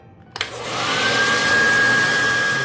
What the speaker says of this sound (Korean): 아주 딱딱해져서 딱딱하게 굳을 때까지 드라이기로 잘 건조를 해주세요